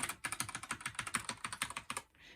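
Fast, steady typing on a clicky budget computer keyboard, close and loud, a rapid run of sharp keystrokes with no talk, ending in a short soft rustle.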